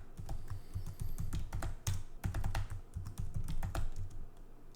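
Rapid typing on a computer keyboard while entering a password during a Linux setup, with close, crisp key clacks in quick bursts and brief pauses between them.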